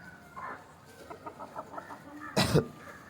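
Chickens cluck and squabble while feeding on chopped banana and papaya leaves, a run of short close clucks building to a louder burst of squawking near the end.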